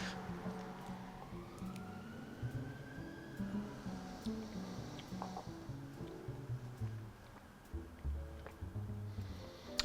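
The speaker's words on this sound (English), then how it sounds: "Apologies for the sirens that are about to roll past." Emergency vehicle sirens roll past through a functioning city centre, a rising wail carried over busy street traffic at moderate distance, with no talk.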